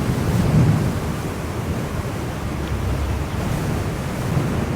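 Wind roars across the microphone while riding an Extreme Bull GT Pro Plus electric unicycle into a headwind, a heavy low buffeting rumble held steady throughout with slight surges, no voices.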